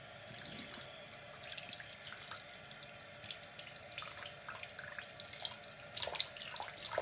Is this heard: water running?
yes